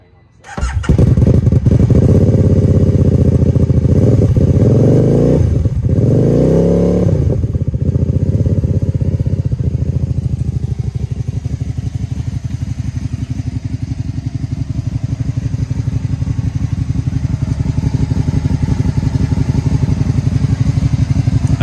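A 2013 Can-Am Spyder Roadster with a wide rear tire starts up and revs a few times, then settles into a loud, steady idle nearby.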